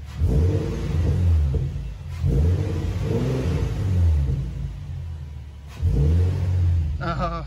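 Rhythmic engine revs surge and fall in three waves, carrying an airy suction whoosh from a car's Z1 intake tubes, with a brief voice at the very end.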